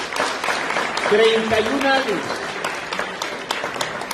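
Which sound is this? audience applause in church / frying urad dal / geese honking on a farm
audience applause in church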